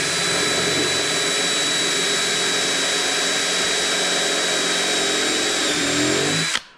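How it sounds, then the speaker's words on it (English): A power drill runs at steady high speed, boring a hole through the gel coat of a Proboat Impulse 32 RC boat hull; a loud continuous whine holds for about six seconds, then cuts off abruptly. "when you're drilling this other hole, don't just do your 3mm pilot hole or whatever and then go straight up to 8mm."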